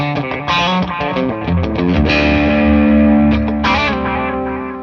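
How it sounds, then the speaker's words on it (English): Electric guitar played through a Clarksdale overdrive pedal and tape echo, sustained distorted chords and notes ringing loud with echoing repeats, alone with no talk. "You're playing on the Clarksdale and the tape echo."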